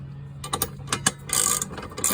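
A hand ratchet clicks in quick uneven bursts as bolts are loosened on a Yamaha jet boat, close and metallic over a steady low hum, with longer continuous ratcheting toward the end.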